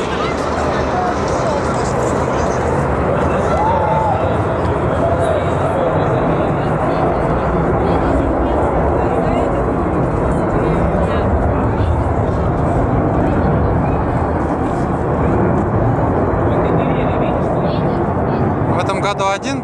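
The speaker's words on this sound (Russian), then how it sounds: "Самолет выполняет взлет." Airplane taking off at an aviation day air show at the Novosibirsk Chkalov aircraft plant, a steady loud roar that fills the whole stretch, with crowd chatter and voices mixed underneath.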